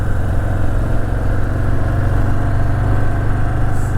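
A Harley-Davidson Fat Boy 114 Anniversary Edition motorcycle engine idling close by, a steady loud low rumble with a continuous even throb and no talking.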